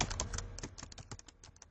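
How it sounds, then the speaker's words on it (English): Computer keyboard being typed on, a quick irregular run of about a dozen crisp key clicks, close but quiet. "and I'll type it in"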